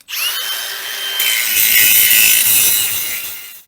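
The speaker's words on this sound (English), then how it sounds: "I'll get on and clean this up with a grinder now, get it ready for welding the new one on" An angle grinder spins up with a rising whine, then grinds steadily and loudly against the metal of a Western D8 spreader, cleaning it up before welding.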